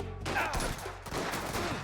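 Rapid pistol gunshots from the game Mafia: The Old Country crack in a quick burst, several sharp loud shots close together with brief gaps.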